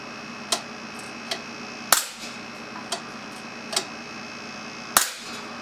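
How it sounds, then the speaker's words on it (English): A small .177 BB air cannon with electronic controls fires six times at irregular intervals at 350 to 400 pounds pressure, each shot a sharp crack over a faint steady hiss, with a few louder than others. "firing is very reliable, even though I'm shooting at 350 to 400 pounds pressure continuously."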